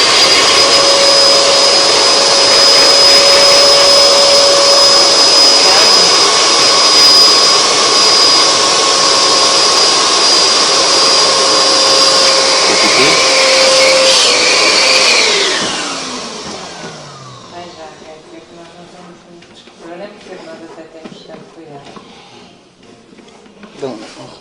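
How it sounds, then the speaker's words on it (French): A vacuum cleaner sucks water out of a clogged drain pipe with a loud, steady high whine for about fifteen seconds, then winds down, leaving quieter scattered clatter and knocks. "Je vais essayer d'aspirer l'eau."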